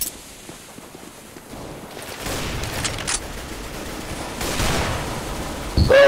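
Gunfire in Counter-Strike: Global Offensive comes as scattered sharp shots and short bursts, some louder and closer than others, with a loud crack near the end over a constant background hum.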